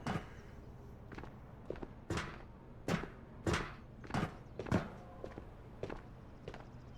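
Footsteps in the VR shooter Ghosts of Tabor, a series of about eight distinct, fairly close thudding steps at an uneven walking pace against quiet background, with no speech.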